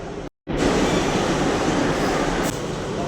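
A loud, steady rumble of a Kolkata Metro train running on the Noapara to Airport line, broken by a brief silent cut near the start.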